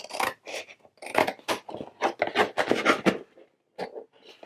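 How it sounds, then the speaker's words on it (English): Scissors cutting through thin cereal box cardboard along a line, a close series of crisp snipping and scraping strokes in uneven bursts with brief pauses. "Just going to cut right on this line here."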